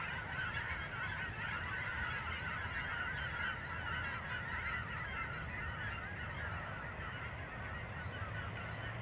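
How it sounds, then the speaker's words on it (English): A large flock of wild geese honking continuously at a distance, a dense overlapping chorus with no pauses. "I saw these geese. Oh, and I wanted to come film them."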